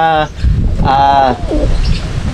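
Racing pigeons coo up close in a loft, giving several clear, throaty, bubbling calls with short pauses between them.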